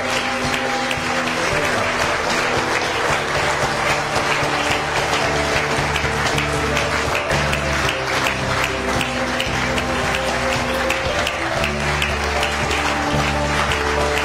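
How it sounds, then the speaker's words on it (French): A church congregation in Tangier applauds during Mass to acclaim the Lord. Dense, steady clapping fills the whole stretch, with sustained musical tones held underneath. "On se lève pour acclamer le Seigneur"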